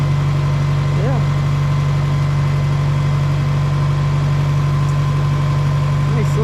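A Kubota tractor engine idles close by with a loud, steady low hum and even throb, continuous and unchanging, while people talk briefly over it.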